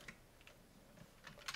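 Someone typing code on a computer keyboard, a few faint, irregular key clicks in quiet surroundings.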